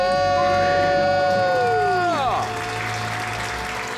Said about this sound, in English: He loves the applause.